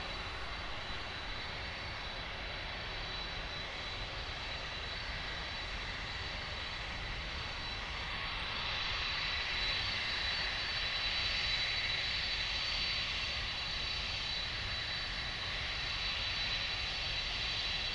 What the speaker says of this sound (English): Copa Airlines 737 MAX 9 from Panama City